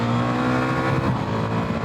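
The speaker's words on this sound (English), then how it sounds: "Oh, can you hear that engine?" Ducati Multistrada V4 S Grand Tour engine, 2024 model, revving up close, a steady loud drone with rising and falling pitch across the whole stretch.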